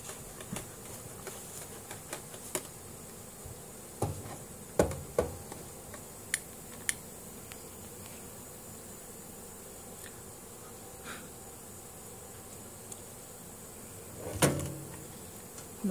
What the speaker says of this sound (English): There's just this hum all over the area here from all the bees that are swarming.